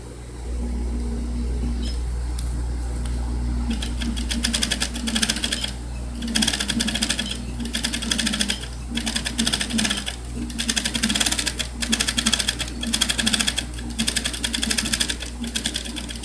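A sewing machine stitches a seam in fabric, running with a steady low motor hum and a fast rhythmic clatter of the needle in several close, continuous bursts.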